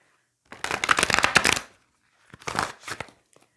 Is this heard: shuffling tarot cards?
yes